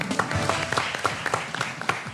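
A short burst of applause from a studio audience on a Pakistani cricket talk show, claps scattered and uneven, fairly close and moderately loud for about two seconds.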